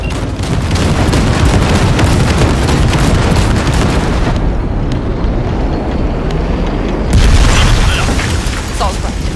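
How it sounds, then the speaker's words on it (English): A loud, sustained explosive roar blasts a massive gate open in Cyberpunk 2077, rumbling heavily for several seconds. It dips briefly and then swells again with a deep low boom. "there's a monster gate that needs to be blown open"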